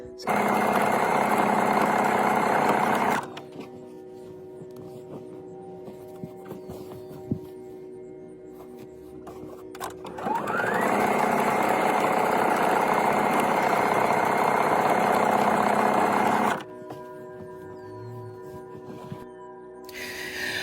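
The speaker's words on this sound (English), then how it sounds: "now that I've sewn the seam" A sewing machine stitching a seam on linen curtain fabric runs in two long steady buzzing bursts separated by a quiet pause, with faint handling noises between them.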